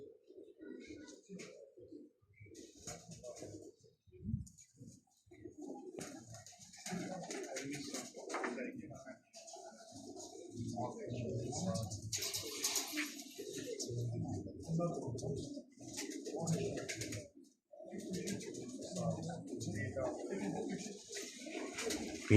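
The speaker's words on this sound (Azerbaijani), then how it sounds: "Bu da dama düşən göyərçindir." Pigeons coo at a racing pigeon club loft in Xirdalan, soft low repeated calls close by, with someone talking over and between them.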